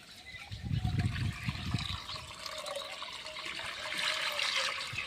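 Water pours from a jug into pots in a village setting, a splashing gush for the first two seconds, then steadier trickling and filling sounds close by, with no talk.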